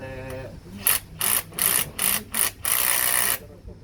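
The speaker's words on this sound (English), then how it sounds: "all you need to do is just tightening it with the proper torque wrench" Ratcheting torque wrench tightening a Hilti HSL3 M16 mechanical anchor, six quick bursts of clicking in close succession, the last one longer and sustained, near and fairly loud with no talk over it.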